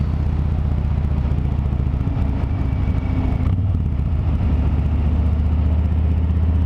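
A motorcycle engine hums steadily while riding down a road, a constant low droning rumble with a slight pitch shift midway, close and loud throughout with no talk.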